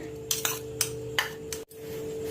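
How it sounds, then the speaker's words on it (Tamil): A few scraping, clinking strokes of a spoon mixing grated coconut, cardamom powder and ground peanut and sesame in a bowl for finger millet kozhukattai, over a steady low hum. "எல்லாமே கலந்து விட்டுக்கோங்க"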